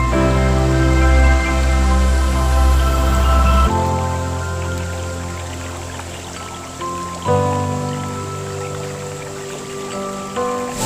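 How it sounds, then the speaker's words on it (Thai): Steady broadband rush of a roughly 60-metre-high forest waterfall, continuous and fairly loud, with droning low tones layered over the water and no talk. "น้ำตกตรงนี้นะครับ ก็จะมีระยะความสูงนะครับ ประมาณ 60เมตรนะครับ"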